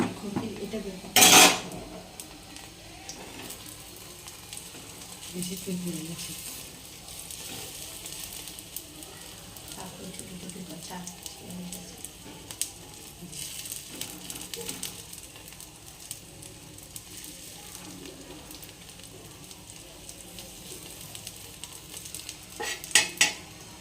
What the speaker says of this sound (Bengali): চাটুর মধ্যে তেল দিয়ে জাস্ট অল্প অল্প করে ছেড়ে দেবো।